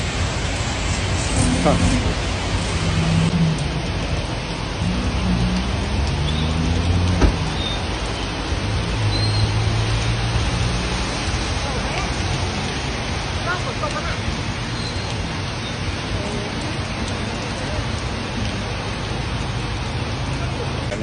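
Steady rain hisses through the whole stretch while out on a bike ride, a broad even wash of drops with a few brief voices near the start.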